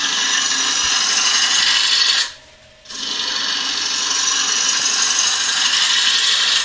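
A woodturning lathe gouge scrapes steadily into a spinning wooden bowl, a loud continuous rasping hiss that breaks off briefly for under a second before resuming just as strongly.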